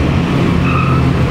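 A small truck's tires squeal on a winding mountain road, a short, loud, continuous screech over rumbling vehicle noise.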